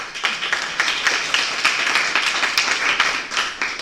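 Students at a women's college event honoring Vivekananda clap in a steady, dense burst of applause that fills the room from start to finish.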